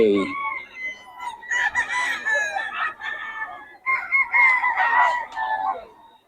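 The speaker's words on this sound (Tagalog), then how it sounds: "Ang lalaki ng manok ni boss Batang" Roosters crow close by at a market in Bocaue in long, strained calls, one after another, with some clucking mixed in and no talk.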